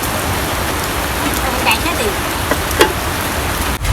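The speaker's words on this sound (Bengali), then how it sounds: "তাই দেখেন আপনার এরকম বৃষ্টি" Steady heavy rain hisses across the whole clip, a dense broadband wash with a few brief knocks and clatters rising above it.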